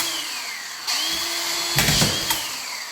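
A Makita or Hilti drywall screw gun whirs at high speed while driving a screw, with a steady whine that shifts pitch midway and ends in brief louder bursts as the screw seats, heard close up.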